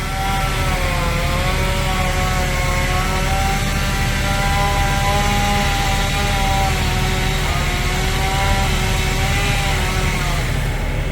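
A chainsaw trims rotten limbs from an oak tree in a backyard, its engine droning loud and continuous with slight pitch wavers as the throttle shifts, sustained throughout.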